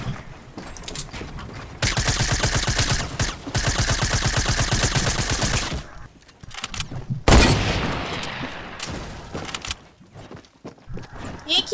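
Rapid bursts of gunfire in Fortnite, a dense run of automatic shots that starts and stops, loud and close, with game sounds and voices talking over it.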